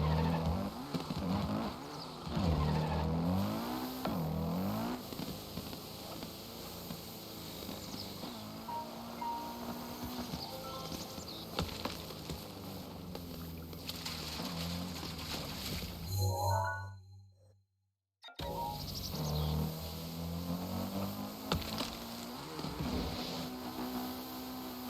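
A motorbike engine revs during a wheelie in Breath of the Wild with the Second Wind mod: a continuous, fluctuating whine that rises and falls, cuts out briefly near the end, then resumes steadily.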